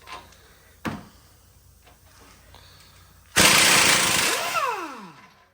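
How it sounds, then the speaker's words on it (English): Pneumatic impact gun working on a tie rod end during a CV axle job on a 2009 Chevy Trailblazer, one loud sustained burst of rattling hammering after a few faint clicks and knocks, close by with no talk. "This new set of sockets doesn't fit into the air gun as good."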